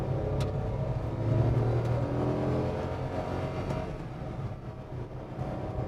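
A Datsun Redigo 1.0 AMT car moves along in manual mode, its engine droning steadily with a slow gear change and a slight shift in engine note amid road and cabin noise, no talk.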